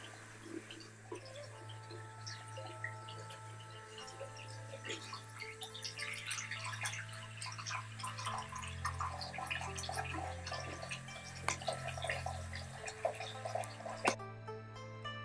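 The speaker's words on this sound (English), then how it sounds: "First, you have your natural spring bath." Water sounds in a natural spring bath at a spa, with steady trickling and scattered drips over a low background hum, fairly close and continuous, with no voices.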